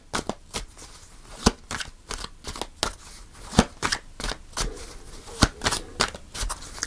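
Tarot cards are shuffled by hand, giving a steady run of crisp riffling snaps and soft rustles, close and fairly loud, with no talking.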